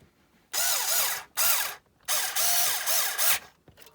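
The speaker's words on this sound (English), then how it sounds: "I got to get the screw gun underneath the truck" A cordless screw gun drives a screw into a nylock nut under an RC rock-crawler truck. Several whirring, ratcheting bursts of about a second each have short pauses between them, close up with no speech.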